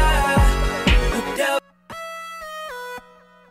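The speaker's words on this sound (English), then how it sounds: "And you can hear the main synth in the background there." Synth melody from the Doublemint Gum commercial jingle of the late 2000s, playing clear sustained harmonic tones with a few stepped note changes after a brief denser burst of music at the start, moderately loud with no talking.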